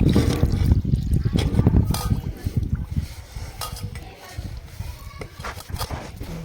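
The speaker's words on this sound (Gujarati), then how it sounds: "ત્યારબાદ છે જરૂરિયાત પ્રમાણે ગરમ પાણી ઉમેરીશું" Hot water poured into semolina and buttermilk batter for instant idli, a steady gurgling splash with light clinks of a bowl, loud and close, fading slightly toward the end.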